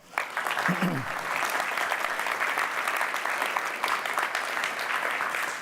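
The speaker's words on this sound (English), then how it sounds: "maybe a round of applause for all the speakers today" Conference audience applauding the day's speakers at an open source finance event, a brief spoken word giving way to sustained, even clapping from a large crowd.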